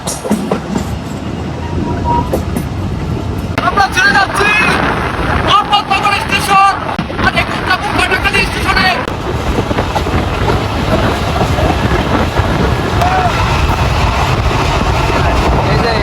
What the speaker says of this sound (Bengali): এই যে ট্রেন ছেড়ে দিবে